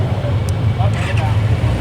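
A Kawasaki Z900 motorcycle engine starts and settles into a smooth, quiet idle, a steady low rumble that runs close by beneath someone speaking.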